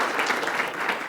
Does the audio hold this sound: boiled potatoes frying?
no